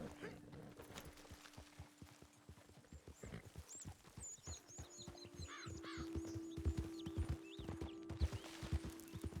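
Horse hooves clip-clop steadily at a walking pace in Red Dead Redemption II, a quiet, even rhythm of soft thuds with faint birdsong and ambient game sound behind.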